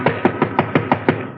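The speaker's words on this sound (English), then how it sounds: "there is a knock on the door" Radio drama door knock: seven quick, evenly spaced raps on a wooden door, close and crisp, with no voices over them.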